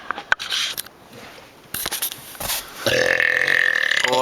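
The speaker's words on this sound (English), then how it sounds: "I can't beat you in burps" A long, loud burp from a person during a burping contest, rumbling close to the mic for a couple of seconds after some brief clicks and shuffling.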